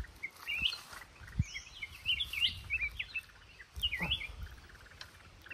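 A pair of wild forest birds calling in a tree, with repeated sharp chirps and short whistled notes scattered across the stretch, fairly close over quiet outdoor background.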